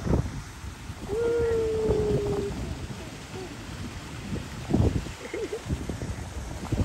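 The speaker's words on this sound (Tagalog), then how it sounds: "Kalakas dito ng hangin." Strong wind gusts across an outdoor hotel swimming pool at Paradox Hotel, a steady rough rumble buffeting the microphone for the whole stretch, with a brief high wailing tone early on and scattered voices and splashy bursts near the end.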